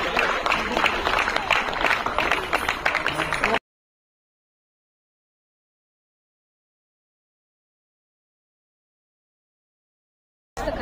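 An audience applauds at a Karnataka government Bala Gaurava award ceremony: loud, dense clapping from a crowd for about three and a half seconds, then silence until a brief burst returns at the very end.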